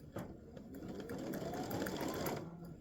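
Embroidery machine stitching a tiny dove's eye in dark gray thread on greeting card stock, a steady close whirring hum with rapid needle rhythm running throughout, without talk.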